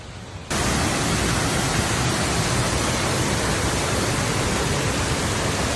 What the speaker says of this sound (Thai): เราถึงจุดหมายแล้วครับชั้นที่สามของน้ำตกตะปัน